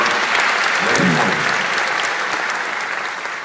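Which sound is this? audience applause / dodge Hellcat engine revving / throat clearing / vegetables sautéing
audience applause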